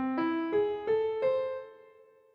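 The Dalic scale mode, scale 785, sounds as four rising notes in steady succession, each sharply struck and sustained, the final tone decaying slowly into silence.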